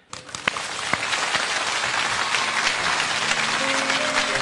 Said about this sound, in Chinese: 接下来就让我们掌声有请周杰伦开讲